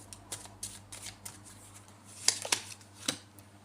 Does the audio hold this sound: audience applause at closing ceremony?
no